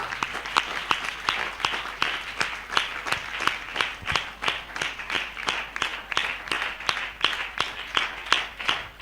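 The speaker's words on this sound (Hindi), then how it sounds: "हम जोरदार ताली से उनका स्वागत करें।" A congregation at a church sermon claps in a regular, rhythmic unison beat of sharp, evenly spaced claps, moderately loud and steady throughout, with no talking over it.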